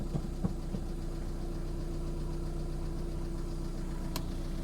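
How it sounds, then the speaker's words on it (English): A Volkswagen Caddy camper's engine starts and idles with a steady low hum and faint knocking, a few light clicks near the start. "if we're just going to start the engine"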